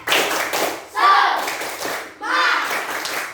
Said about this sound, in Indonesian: coba tepuk semangat. Sekali lagi, tepuk semangat.